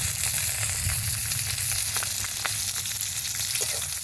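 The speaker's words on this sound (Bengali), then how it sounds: "তেলের উপরে দিয়ে দিব পেঁয়াজ কাঁচামরিচ কুচি" Chopped onion and green chilli sizzle steadily in hot oil in a wok, a dense continuous frying hiss with occasional small pops and crackles, close and fairly loud, with no voices.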